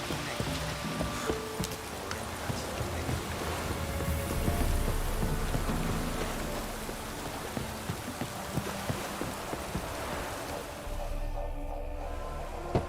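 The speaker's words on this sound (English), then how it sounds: "Looks like rain." Rain falling in The Witcher 3: Wild Hunt, a steady wash of patter and drips with scattered small knocks, moderately loud and unbroken, with a brief dip toward the end.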